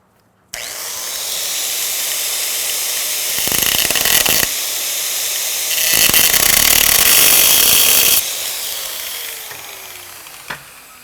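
A power grinder works steadily on a steel Halligan bar held in place by a magnet, a loud continuous abrasive whine that swells twice as the tool bears down harder, then tapers off and stops.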